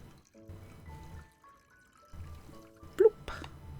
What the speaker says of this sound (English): So I just need to pour this into one of the forms.